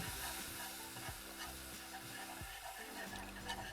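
Whisk stirring milk into a roux in a pan, a steady rhythmic scraping with regular strokes and a soft sizzling bed underneath, close and moderate, with no talking.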